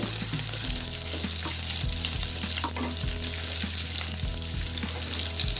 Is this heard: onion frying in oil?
yes